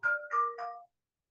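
A phone ringtone plays a brief three-note chime, clear and close, then stops abruptly into silence.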